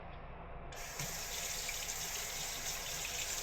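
Tap water runs steadily into a kitchen sink for a quick rinse, a continuous close splashing hiss that grows slightly fuller after the first second, with no voices.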